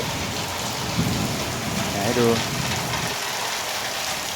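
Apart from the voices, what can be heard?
heavy rain falling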